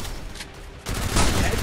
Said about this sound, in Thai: โอ้รัวมากนะปืนนี้นะครับผม